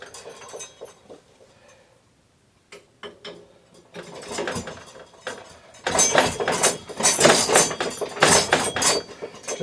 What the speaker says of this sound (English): Get these pedals pretty close to tight, so we can just finish setting it up with this big giant heavy pedal wrench.